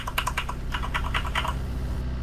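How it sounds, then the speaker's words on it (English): Computer keyboard keys tapped in a rapid run of crisp clicks for about a second and a half, then stopping, with no voices over it. "Testing my keys. More like breaking your keyboard into half."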